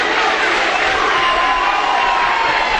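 A gymnasium crowd at a high school district wrestling match cheers and shouts loudly and continuously, a dense wall of voices with no break.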